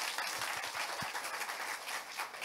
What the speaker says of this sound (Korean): 대미를 장식해 주실 마지막 발표 큰 박수로 모시도록 하겠습니다